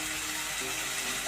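Tomato pieces and green chillies frying in a dal curry pan give a steady, fairly soft sizzle, close by, with a faint scrape of stirring near the end.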